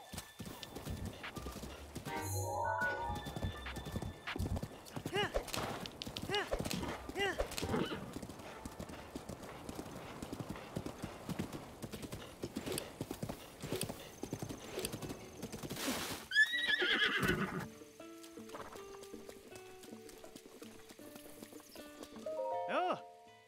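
Horse hooves clip-clop steadily in Breath of the Wild, with a loud neigh and whinny rising near the middle before the steps fade into quieter ambience.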